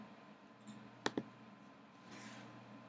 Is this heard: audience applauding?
no